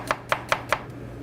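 A knife slicing one small onion very finely for jalapeño coleslaw: four crisp, evenly spaced cuts against a board in quick succession, close and clear, with no talk.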